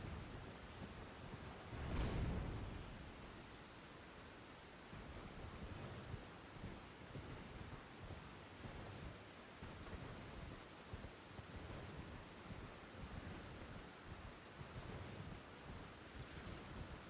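Video game thunderstorm: a single thunder crack and rumble early on, then steady rain hissing over a faint surf-like wash throughout, with no speech.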